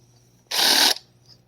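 A counterbore tool spins briefly in a freshly drilled hole, cleaning and deburring it during a DIY driftwood sailboat build; one loud, close, half-second burst of whirring grind stands alone.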